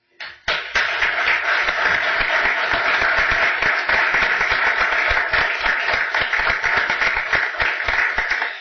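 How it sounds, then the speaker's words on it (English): Sustained applause at a county commissioners' public meeting honoring health department staff, many hands clapping loudly and continuously for several seconds after a brief start. "we'd like to give you a round of applause"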